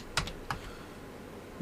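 Typing on a computer keyboard during 3D modelling work at a desk: two crisp close key clacks in quick succession, then a pause and a softer third tap, no voices.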